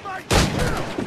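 A single loud musket shot fired in Assassin's Creed 4: Black Flag, a sharp close blast followed by a long rumbling echo, with no talk.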